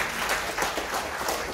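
A church congregation at a Family Blessing service in Jakarta applauds for Jesus with dense, continuous clapping that stays close and steady throughout.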